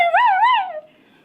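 A human voice imitates a puppy with a single high, wavering whimpering whine. The whine rises and dips twice, then trails off into quiet, loud and close.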